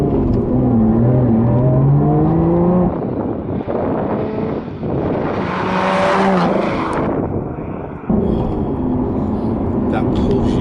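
A Lotus Evora 400 sports car accelerates hard on a road, its engine note climbing in pitch through a couple of rising sweeps and gear changes, loud and steady with wind noise and occupants talking over it.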